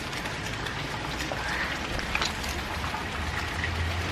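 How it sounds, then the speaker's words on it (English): Steady rain outdoors on a dreary day, a continuous dense patter with occasional heavier drips that stays even and fills the whole stretch, with no voices. "It's so rainy."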